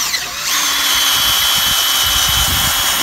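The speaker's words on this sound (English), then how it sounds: "we're just going to advance the drill" A power drill runs at a steady high whine while advancing during pig pasture fence removal, loud and constant after a short spin-up, with some low rumbling underneath.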